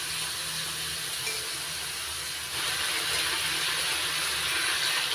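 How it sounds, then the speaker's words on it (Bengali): Shrimp frying in oil over low heat give off a steady, even sizzling hiss that runs without pause and grows slightly fuller partway through, with no voices. "চিংড়ি মাছ হালকা করে ভেজে নেব, খুব বেশি সময় ধরে ভাজবো না।"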